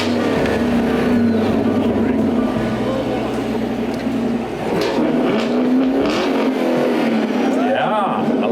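A powerful Chevrolet Camaro sports car engine with 455 horsepower rumbles and revs up in loud bursts, deep and close, with people talking over it.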